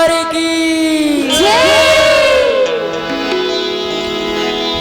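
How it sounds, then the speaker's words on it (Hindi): A crowd at a devotional Ramayana gathering raises a loud, sustained collective cheer, many voices rising and falling together in a chant-like shout. "एक बार जोर से ताली बजा के जयकारा हो जाए"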